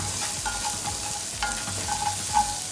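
Steady, even sizzling of sweet pepper, onion, chives and garlic sautéing in a pan, with light stirring scrapes throughout and no talking.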